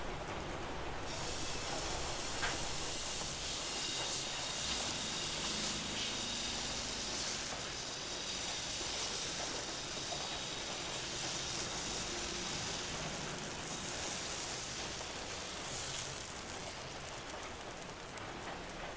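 Coconut milk dosa batter on a hot pan oiled with coconut oil gives a steady, loud, hissing sizzle that holds evenly for the whole span.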